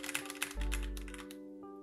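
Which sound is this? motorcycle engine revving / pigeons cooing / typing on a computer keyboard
typing on a computer keyboard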